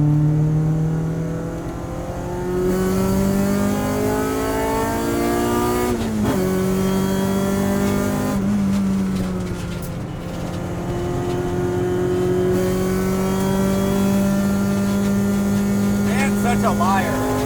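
Honda Integra with a K20 engine cruising on a mountain road, a steady in-cabin engine drone that climbs and drops with gear shifts, moderately loud, with occasional voices over it.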